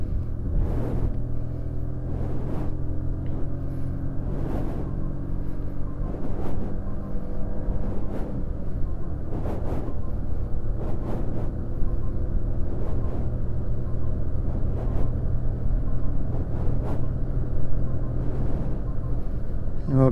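Modified 2025 Maruti Swift ZXI pulling hard in third gear through traffic, a steady loud engine drone with rising rumble heard from inside the cabin, occasional thumps over the road and no talking.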